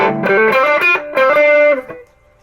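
Electric guitar on a lead setting in drop D tuning plays a short melodic phrase with sustained distorted notes, loud and close, then rings out and fades.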